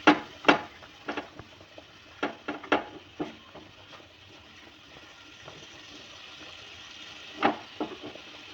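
Spiced masala with turmeric stirred in a pan for an okra dish, with sharp scraping knocks of a spoon against the pan scattered through a quiet, faint background.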